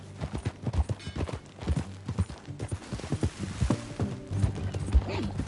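Hoofbeats of a horse clip-clopping at a steady pace in the Red Dead Redemption 2 video game, a rhythmic clatter under game dialogue, with music and ambient sound in the mix.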